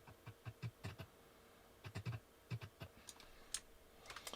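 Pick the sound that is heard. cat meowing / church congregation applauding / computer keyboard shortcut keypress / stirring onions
computer keyboard shortcut keypress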